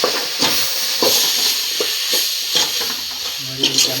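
Vegetable curry with chili powder being stirred in a pan, a spoon scraping in repeated strokes over a steady sizzle and hiss, close and moderately loud with no talk.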